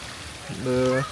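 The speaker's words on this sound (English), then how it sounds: "If you listen to the sound of the water flowing, it's like a very perfect melody." Clean water flows down small stone steps in Bright Pearl Square in Dali, China, making a steady, continuous rush, with a person's voice briefly heard over it.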